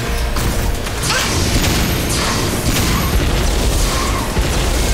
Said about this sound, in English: Blue Laser, fire!